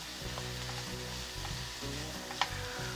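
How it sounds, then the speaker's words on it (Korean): Chopped onions sauté in melted butter in a frying pan, a steady close sizzle with occasional stirring scrapes and one sharp knock near the end, no talk. "버터가 녹았으면 양파를 넣어서 볶아줄게요"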